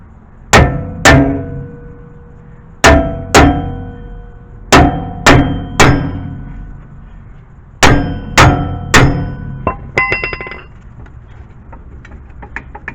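Loud metallic clangs from a hammer hitting the edges of a stuck rear brake drum on a Chevy Cobalt, struck in quick pairs and triplets with ringing decay, then lighter taps.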